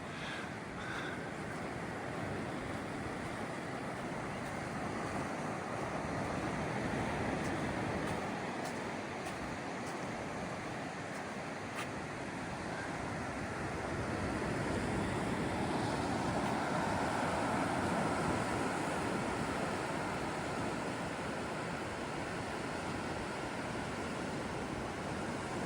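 Surf and wind roar steadily at Point Addis beach on a coastal walk, a continuous broad wash of breaking waves and gusts buffeting the microphone, with no voices.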